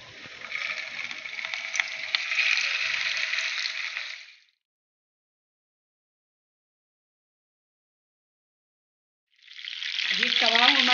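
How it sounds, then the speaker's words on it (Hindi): Gola kebabs shallow fry in a pan with a bright, steady sizzle of hot oil, cutting out to silence for several seconds before the crackling sizzle returns, with a faint voice near the end. "अब हम इसको शेलो फ्राई कर लेंगे।"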